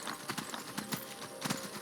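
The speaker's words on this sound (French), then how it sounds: "faire un petit tour de cheval" Horse hooves clip-clop in a steady walking rhythm as a rider travels in the video game Skyrim, crisp regular hoof strikes over a soft ambient background, with no talking.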